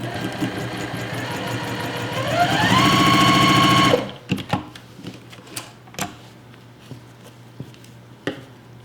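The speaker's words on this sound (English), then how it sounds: "Sew each piece together using a 1/4 inch seam." Sewing machine stitching quilt pieces together with a quarter-inch seam, a fast rapid stitching whir that speeds up and then stops, followed by soft handling clicks and fabric rustles.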